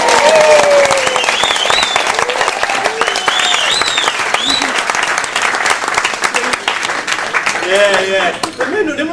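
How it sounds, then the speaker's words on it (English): Wedding guests applaud loudly after the groom introduces his wife, with dense clapping, cheers and whoops running throughout and excited voices mixed into the crowd. "So, can we please, with a big round of applause, as I introduce my lovely, my beautiful wife, Mrs. Phillips."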